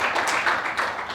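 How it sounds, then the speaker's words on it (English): Brief applause from an audience at a Nigerian legal and policy forum, a moderate, uneven patter of clapping that swells and dips over about a second. "A round of applause for you."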